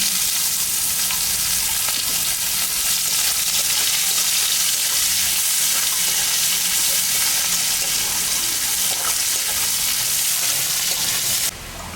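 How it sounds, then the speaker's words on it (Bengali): Chopped onions fry in hot oil with dry red chillies, cumin and bay leaves, a steady, close, loud sizzle with fine crackling that runs on unbroken, then drops slightly at the very end. "পেঁয়াজ কাটে রাখছি, এটা আমি এখন ভাজি"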